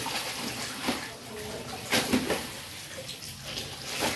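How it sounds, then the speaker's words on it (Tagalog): Rinse water pours over a person's head and splashes down into a basin, a steady close watery rush with brief stronger surges. "Bago mapunta sa palanggana yung tubig na pinagbabanlawan ko, dumadaan muna sa ulo ko"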